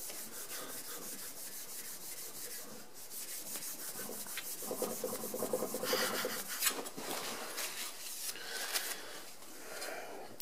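A card scraper is honed on a 20 micron abrasive, making rhythmic back-and-forth rubbing and scraping strokes, close and moderately loud, growing more vigorous midway.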